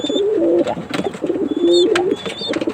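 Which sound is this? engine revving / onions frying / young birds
young birds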